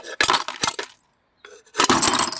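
Glass from a Bizon Z tractor headlight is knocked out and breaks, giving two bursts of crunching, clinking shards separated by a brief silence, close and loud.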